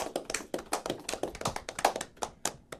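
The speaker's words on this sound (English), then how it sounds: "clap it up for them" A small audience claps at an event recapping the NAMM convention: quiet, distinct hand claps in an uneven rhythm, close and sparse rather than a full roaring ovation.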